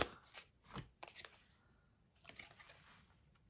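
Tarot cards riffled and shuffled by hand, followed by a card being drawn: a few brief, close papery flurries with quiet gaps between them, soft overall.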